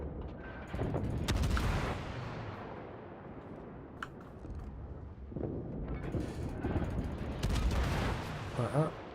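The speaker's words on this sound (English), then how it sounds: "Yeah, this guy's firing HE." Warship guns in the World of Warships video game fire high-explosive shells in a Halloween mode, heavy booming salvos with the loudest bursts near the start and toward the end, rolling between blasts, with a voice talking faintly underneath.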